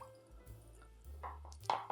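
Water is poured into a pot to make sugar syrup for a sponge-cake dessert: faint, brief drips and soft liquid splashes come in a few small bursts over a quiet background.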